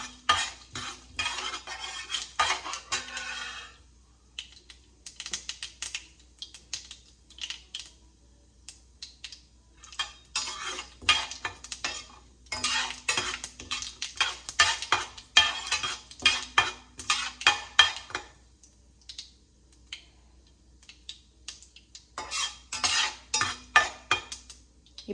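Ground lentil mixture stirred in a pan with a metal utensil, bursts of quick scraping and clinking strokes separated by short pauses, close and clear with no voices.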